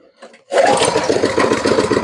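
After a brief spoken word, a car engine revs up to charge a dead battery and holds there, a loud, steady, close mechanical drone that lasts to the end.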